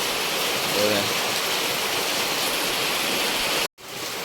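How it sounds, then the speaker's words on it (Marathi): Heavy monsoon rain pours down in the Konkan with wind, a dense, steady roar of water close by and loud throughout, briefly cutting out near the end. "हे बघा कोकणात लागतोय पाऊस"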